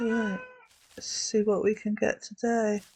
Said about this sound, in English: I'm sorry if you can hear my cat in the background.